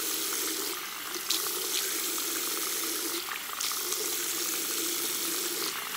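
Tap water runs steadily into a sink as skin is wetted before a shave, a continuous close splashing hiss with a few brief surges of stronger spray, no voices.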